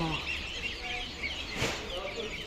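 Chickens cluck amid the bustle of a poultry market, where laying hens and chicks are sold; brief calls rise over steady crowd noise, with people talking nearby.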